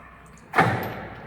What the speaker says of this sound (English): and pin back, and then to impact. Boom.